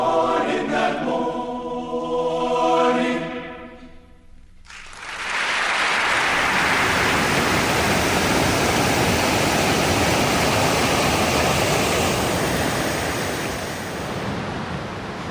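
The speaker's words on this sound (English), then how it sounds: "River running right out of the mountain in this big spring here." A big spring-fed river gushes straight out of a mountainside near Preston, Idaho, a loud, steady roar of rushing water that follows a few seconds of singing.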